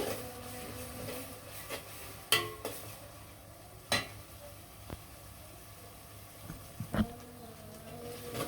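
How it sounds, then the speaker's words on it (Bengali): Onions for a goat meat curry sizzle softly in a pan while a utensil stirs them, scraping and knocking against the pan in scattered sharp clicks over a steady low frying hiss. "ভালো করে লাড়াচাড়া লাড়াচাড়া দিয়ে দিলাম"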